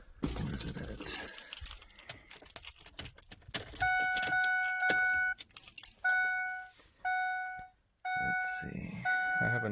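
Car keys jingle in the ignition of a 2002–2005 vehicle being switched on, with rattling clinks early on, followed by repeated electronic warning chimes in on-off bursts and people talking over it.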